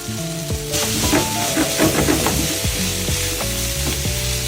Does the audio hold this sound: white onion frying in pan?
yes